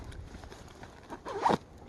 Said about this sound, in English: Oh, look at that. My zipper's breaking.